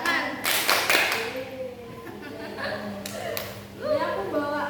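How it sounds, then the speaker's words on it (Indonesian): Rhythmic clapping game with hands tapping elbows, shoulders and palms in a steady pattern, voices chanting along and talking over the sharp claps and thuds. "Tepuk siku, tepuk pundak, tepuk tangan."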